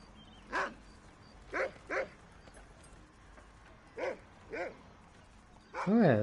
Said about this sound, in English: Dog's coming over.